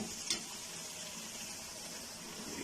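Carrots and peas fry in a pan with a constant, even sizzle that stays low and close, with a faint clink near the start and no voices.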